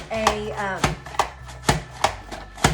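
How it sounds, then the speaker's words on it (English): Radishes pushed through a press-down cutter into fingers make a run of loud, close, crisp chopping thumps at an even pace, about one every half second. "And you just press down, and out pops these wonderful little fingers of radishes."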